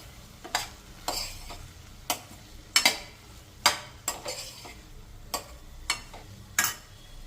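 Capsicum egg fry stirred in a pan after chopped coriander leaves go in: a series of sharp, regular spatula scrapes and taps against the pan over a faint low sizzle, close and with no talking.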